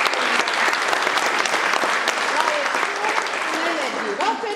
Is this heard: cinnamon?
no